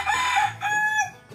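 A rooster crows loudly and close among free-range chickens, one full cock-a-doodle-doo in two rising and falling bursts, with no talk over it.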